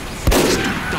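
A single sharp rifle shot from a Sniper in the team-based shooter game Team Fortress 2, a loud close crack with a brief rumbling tail that fades into low background noise.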